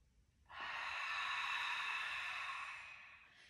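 A single long, steady breath, like a forceful exhale through the mouth, lasts about two and a half seconds during a 90/90 breathing exercise. It is close and clear, with only quiet room tone around it.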